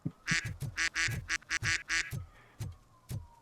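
Geese in the RoboCop: Rogue City video game honk in a rapid, loud series of about a dozen nasal calls, close and clustered, then thinning out to a few spaced honks.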